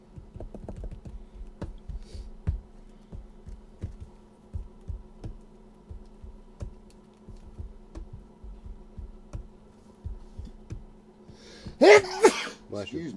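A single close sneeze bursts out near the end, after a long stretch of soft rhythmic tapping and clicks at a tabletop card game.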